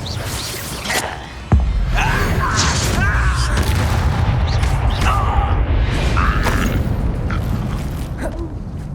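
A Bombarda explosion spell from Hogwarts Legacy goes off with a sudden loud boom, followed by a sustained rumbling, crackling roar of blasts and magical effects that lasts throughout.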